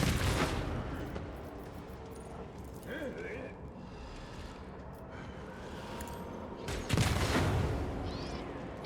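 A distant explosion in the video game Warhammer 40k: Rogue Trader gives a loud rumbling boom near the end, with crackling gunfire-like bursts and game voices talking around it.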